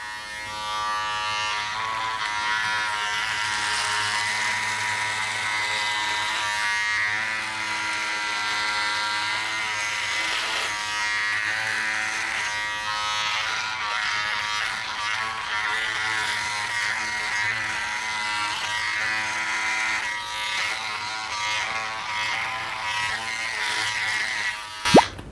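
Remington F4 budget electric rotary shaver buzzing steadily while shaving the chin and jaw, a continuous close-up motor hum with harmonic whine that holds for the whole stretch, ending with a brief click.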